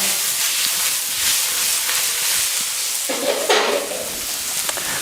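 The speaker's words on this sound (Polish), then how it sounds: "Trochę dymi syczy." Sesame oil hisses and sizzles loudly in a hot pan while being stirred, a dense continuous frying hiss with brief scraping shifts, close up for Thai spring rolls.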